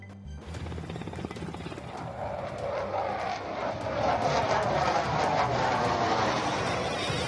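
Indian Air Force fighter jets roar low over the Ganga Expressway, a loud, building jet rumble that swells and thickens over several seconds, with no talking over it.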